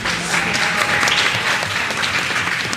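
Audience at a primary schools quiz claps steadily after scores are read out, a dense, sustained patter of many hands filling the room from start to finish.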